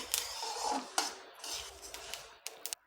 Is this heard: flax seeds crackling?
yes